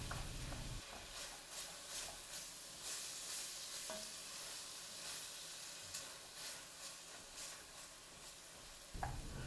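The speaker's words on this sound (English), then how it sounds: "We just kind of want to get this meat browned up." Ground beef searing and browning in a pot for chili, a steady close sizzle and hiss with scattered stirring scrapes and clicks, louder bumps at the start and end, no talk.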